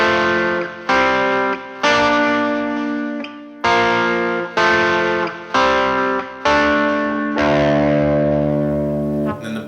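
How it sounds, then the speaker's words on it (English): Distorted electric guitar chords struck in a repeating rhythm, each ringing over an open low string before the next hit, loud and close. "we're going to play and play our low string open. Let that all ring out."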